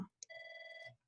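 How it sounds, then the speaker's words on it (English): A phone rings once during an online presentation on accessible documents: a single short, bright electronic trill, heard alone and fairly faint. "Sorry for my phone ringing."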